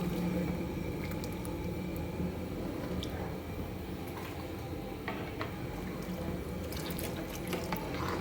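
Ten kilograms of rice going into a large pot of boiling water for catering-size veg biryani, a steady close rush of bubbling and watery splashing that holds at one level throughout, with no talk.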